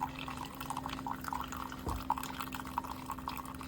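A Keurig K-Supreme Plus single-serve coffee maker brews a cup of coffee. Faint liquid trickling and dripping sit over a steady low machine hum, with one soft knock midway.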